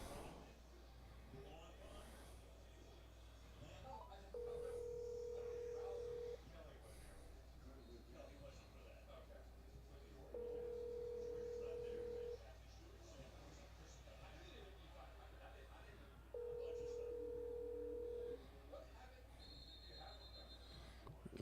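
A telephone ringback tone sounds three times at an even pace, each ring about two seconds long and separated by longer pauses, faint over a low background hum and quiet murmuring.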